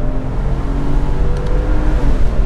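The flat-six engine of a Porsche Boxster S 986 revs with a loud, steady, deep drone and a throaty low-end growl that holds close and continuous.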